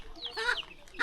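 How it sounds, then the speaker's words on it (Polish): A chicken clucks and squawks nearby in a Philippine market setting, giving a few short, raspy, rising calls in quick succession at moderate loudness with no other sound competing. "A kurczak się ze mną kłóci."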